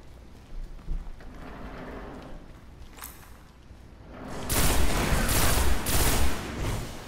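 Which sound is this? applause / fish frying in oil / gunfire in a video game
gunfire in a video game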